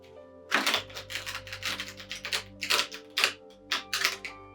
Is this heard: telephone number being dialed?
no